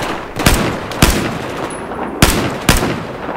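Four sharp, loud gunshots crack at uneven intervals over a steady background of Battlefield 4 game noise, with no one speaking.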